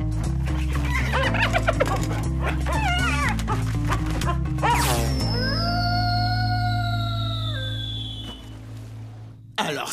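A cartoon dog yaps and barks in quick bursts over a musical score, then breaks into a drawn-out, wavering whimper that slides downward and fades.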